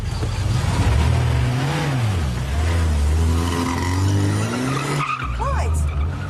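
A car droning steadily in low gear as the handbrake is pulled, ending in a sudden high tyre squeal from the skid, with faint voices in the background.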